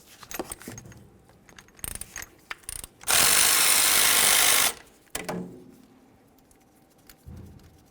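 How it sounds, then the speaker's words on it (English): A ratchet works the 10mm caliper slider bolts on a 2002-2005 Ford Explorer: close, sharp clicking strokes, a burst of loud continuous rapid ratcheting, then more scattered clicks and tool clatter. "we can continue on by removing our 2 10mm slider pins"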